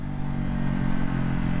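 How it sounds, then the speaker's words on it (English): Wind buffets the microphone while riding outdoors, producing a heavy, low, continuous roar that stays loud and steady throughout the short stretch, with no talking. "Now I gotta enjoy the lovely wind"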